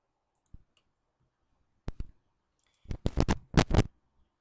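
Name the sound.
computer mouse clicking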